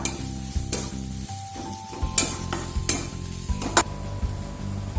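Spices stirred and fried in a pan for chilli paneer give a steady sizzle, with a spoon scraping in repeated sharp strokes, close up and with no talking.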